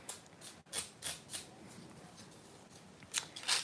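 Nail file rasping against long stiletto nails to round the tips, in short quiet repeated strokes with small pauses between them, close by and soft.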